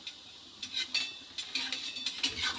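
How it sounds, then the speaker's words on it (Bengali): Palm fritters (taler fulori) being turned and stirred in a frying pan over low gas, with a run of light metallic clinks and scrapes from the utensil against the pan, close and fairly soft. "একটু হালকা করে নেড়ে দিচ্ছি"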